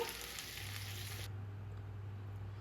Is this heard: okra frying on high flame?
yes